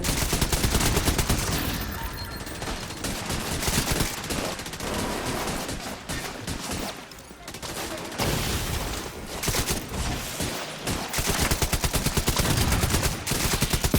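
Sustained automatic gunfire from a Tom Clancy's The Division shootout, dense rapid bursts running almost continuously with brief lulls, loud and close throughout.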